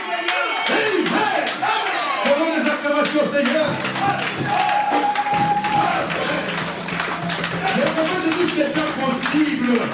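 A church congregation claps and shouts acclamations during a sermon, a loud, continuous roar of many voices and clapping filling the room for the whole stretch.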